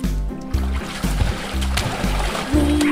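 Water splashes in a children's nursery song, a series of separate splashy bursts landing about every half second over a steady musical backing.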